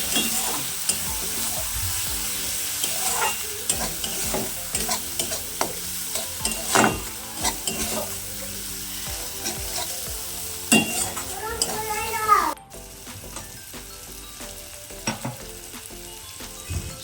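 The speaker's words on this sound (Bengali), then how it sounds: "মশলাটাকে আমি একটু ভালো করে কষিয়ে নেব।" Spice paste for an egg curry is stir-fried in a little oil, a continuous sizzle under frequent spatula scrapes and stirs, close and fairly loud before a sudden drop to a quieter hiss.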